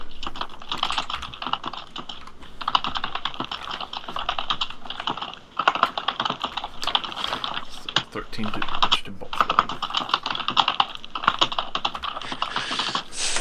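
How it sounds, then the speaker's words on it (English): Rapid, furious clatter of keys on a computer keyboard, dense and continuous near the microphone during a tabletop role-playing session, with people talking over it. "The furious typing!"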